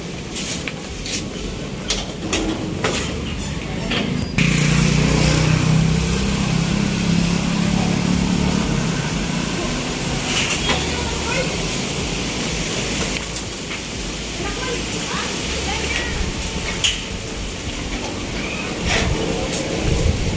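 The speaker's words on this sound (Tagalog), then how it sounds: "Nagbagyo na guys. Kusog na kayong hangin." Strong storm wind blows steadily and loudly in a broadband roar with gusty swells, while a voice speaks intermittently over it.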